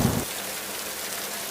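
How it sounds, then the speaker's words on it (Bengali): Heavy rain in a cartoon, a dense steady hiss of falling water after a brief low thump at the start, no voices. "আমি বুঝতে পারিনি যে এরকম বৃষ্টি হবে"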